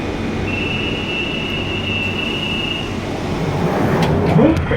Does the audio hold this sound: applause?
no